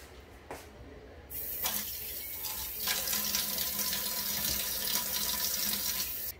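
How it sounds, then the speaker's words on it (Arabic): Tap water runs into a sink while a face scrub is rinsed off with lukewarm water, a faint click then a steady close gush of flowing water that continues to the end. "الآن سنقوم بغسل المقشر بالماء الفاتر، ثم نكرر العملية بالماء البارد."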